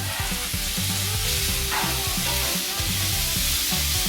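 Diced tofu sizzles and fries steadily in a hot pan during a kale and morning glory stir fry, a continuous loud hiss with faint stirring scrapes.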